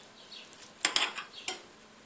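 Spoon stirring acılı ezme, a spicy chopped salad dressed with salt and a tablespoon of olive oil, in a bowl: a few soft scraping and clinking strokes, close and fairly quiet, with no talk.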